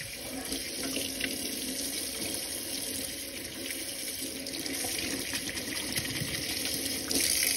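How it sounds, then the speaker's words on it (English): Tap water runs steadily into a sink, rinsing conditioner out of a doll's rooted hair, a constant close hiss and splash with small shifts as the hair moves under the stream. "I'm gonna just use some regular water on her now"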